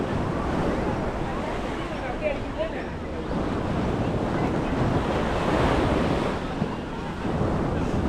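Surf washing steadily onto the beach at Batu Ferringhi, Penang, a continuous broad roar of breaking waves with wind buffeting the microphone throughout.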